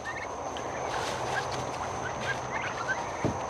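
Several healthy farm turkeys gobble faintly in short bursts around a homemade coop, scattered calls over a steady outdoor hum with no talking.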